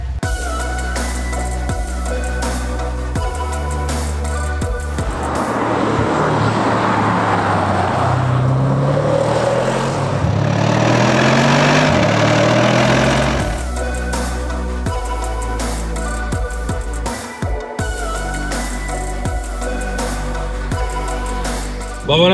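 Audi RS6-R ABT on the move on a country road, a loud steady cabin drone of engine and road noise with a swelling roar of hard acceleration midway, then settling back to a constant hum.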